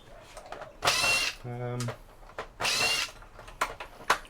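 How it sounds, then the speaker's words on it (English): Screws being backed out of beige e-waste computer cases with a power driver, two loud whirring bursts separated by a brief rising ratchet-like tone, with faint clicks and handling noise in between. "Just got to remove these screws to try and clean up the plastic as much as possible."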